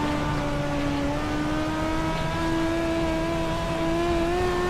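Dirt racing car engine in iRacing on Lanier National Speedway, revving up steadily as the pitch climbs over several seconds, loud and close, with no talk.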